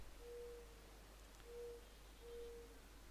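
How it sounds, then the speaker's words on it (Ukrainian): An owl hoots in the Counter-Strike 2 map Sunburn, giving three faint, far-off, evenly spaced calls over a quiet ambient hum. "Сова якась чи що це за..."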